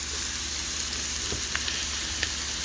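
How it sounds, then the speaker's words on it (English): Leeks frying in hot oil in a pan for black-eyed pea soup, giving a steady, fairly quiet sizzle with a few brief crackles and pops, no voices. "we're going to get these leeks here into the oil."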